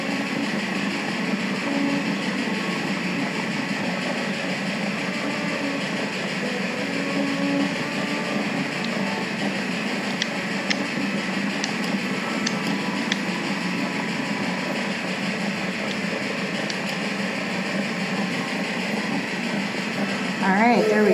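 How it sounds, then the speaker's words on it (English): Continuous rumble of a video game train in Railway Empire 2 rolling into a station, with faint clattering and clicks, steady throughout, with indistinct talk in the background. "The train has arrived and is being unloaded."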